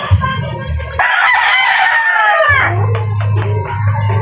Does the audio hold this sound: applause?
no